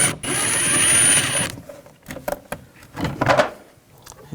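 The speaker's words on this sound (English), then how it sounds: "Remove this screw, use a T20 socket." A power driver with a T20 socket whirs briefly while backing out a screw in a BMW X5 door panel, followed by several sharp clicks and knocks of handling.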